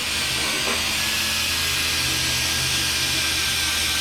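A power sander works over the surface of a retired Air Force cabover truck, a continuous hissing, high whir with a low motor drone beneath, steady and fairly close throughout.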